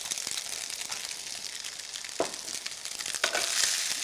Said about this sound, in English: I'm going to gently mix it through.